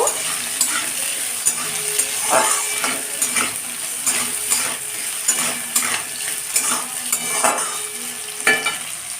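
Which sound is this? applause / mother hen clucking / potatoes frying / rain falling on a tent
potatoes frying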